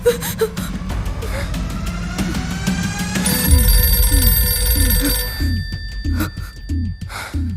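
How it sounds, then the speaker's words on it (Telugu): A telephone rings repeatedly in a steady electronic pattern, loud and close, with gasping breaths and distressed sounds at the start. "సిద్ధు, సిద్ధు, ఆ ఫోన్ ఎత్తుకు."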